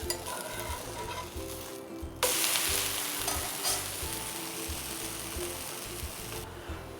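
Wheat dosa sizzling on a hot pan with a spoon of sesame oil just after flipping, a steady crackling fry with a louder burst partway through, close and with no talk.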